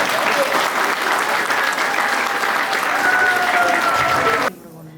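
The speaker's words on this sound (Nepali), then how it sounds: "ताली अलिक पुगेन कि क्या हो?" Sustained applause from wedding guests at a Nepali church wedding ceremony, a dense steady clatter of many hands that cuts off abruptly near the end, leaving only faint room noise.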